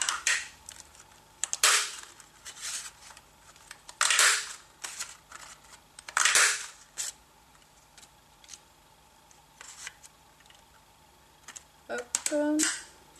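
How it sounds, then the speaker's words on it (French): Scissors cut snowflake shapes from slightly textured white paper, with sharp, separate snips spaced a second or two apart and a quick cluster of cuts at the end, close and clear. "Je vais aussi découper mes flocons"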